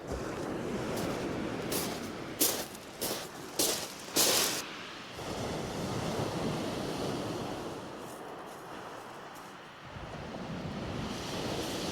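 Surf breaking on a fishing beach, a continuous loud wash of waves with wind buffeting the microphone and a few sharper gusts early on.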